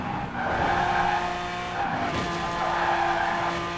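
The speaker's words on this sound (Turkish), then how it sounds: "Araba gerçekten ok gibi gidiyor." A car racing in Forza Horizon 4, its engine droning steadily while tires squeal and skid through drifting turns, a sustained loud whine swelling and easing in waves.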